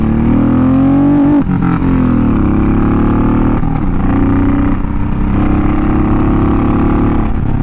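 A Honda VTX1800 cruiser motorcycle is ridden with a loud, steady engine drone. The pitch dips and shifts twice, which sounds like gear or throttle changes, and no voice is heard.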